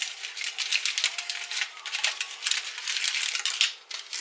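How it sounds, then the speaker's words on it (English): Aluminium foil crinkles and rustles steadily for a few seconds as it is pressed over the top of a pot of moi moi, close and fairly loud, with no talking. "Just a little bit of foil, cover the top."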